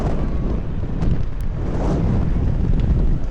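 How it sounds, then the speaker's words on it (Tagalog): Strong wind buffets the microphone on a busy city street, Queen Street in New Zealand under overcast skies, a steady loud roar and rumble with gusts throughout and no talking. "Lakas ang hangin."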